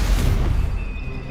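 A spell explosion from the video game Hogwarts Legacy lands as a deep, rumbling boom that swells at once and slowly fades over about a second.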